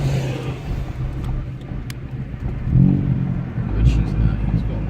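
Interior engine sound of a Ford Focus ST with resonator and muffler delete as the car accelerates onto a street, a steady low drone swelling in two louder surges near the end.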